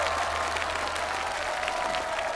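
A large studio audience at a televised music gala applauds two singers, a dense continuous wash of clapping held at even volume for a couple of seconds.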